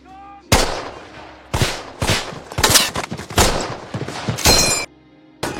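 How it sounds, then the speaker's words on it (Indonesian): Battle scene from a World War II film: bursts of rifle and machine-gun fire with heavy artillery blasts, loud and close, coming in several separate volleys with short gaps between them. "Disusul dengan serangan artileri, Nazi dibuat lari tunggang langgang."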